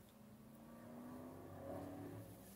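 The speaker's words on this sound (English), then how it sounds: "so if you hear cars outside, that's what that's from." A car passes outside at a distance, its faint engine hum swelling and then receding through the window.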